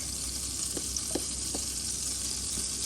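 Butter and garlic frying in a pan, a steady close hiss with a few faint soft taps.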